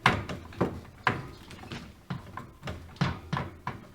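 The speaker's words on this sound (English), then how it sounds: "Somehow this drawer goes in here." A drawer on a KitchenAid appliance being worked into place during a repair gives a series of close, sharp knocks and sliding bumps, about nine uneven hits over a few seconds with no talking.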